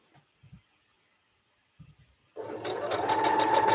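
A sewing machine starts up after a few faint knocks and handling sounds, then runs in a steady close whir of rapid stitching while quilt pieces are sewn.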